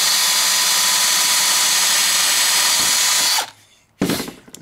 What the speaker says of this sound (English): Okay, we're gonna pre-drill.